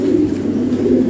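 A fancy pigeon gives a short, steady, low cooing murmur, close and unbroken.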